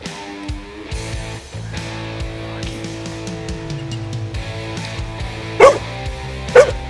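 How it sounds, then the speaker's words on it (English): A dog gives a run of yips and whimpering barks while playing fetch with a ball, then two loud, close barks toward the end. "And he'll bark some more."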